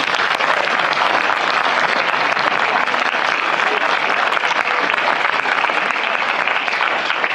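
Audience at a French comedy theatre show applauding, sustained loud dense clapping from a full house that stays even for several seconds without a break.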